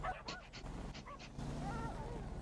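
Dogs in the video game GTA 5 give a few quick yips and barks, faint and spaced, then a whimpering whine trails off under low background noise.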